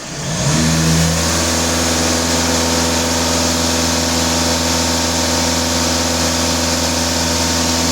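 Skoda Octavia VRS engine revving and holding at raised rpm, a steady loud mechanical drone with stable harmonics after a brief rise, close and continuous with no talk.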